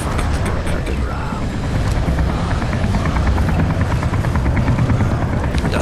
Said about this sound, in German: der Helikopter macht doch viel zu sehr Krach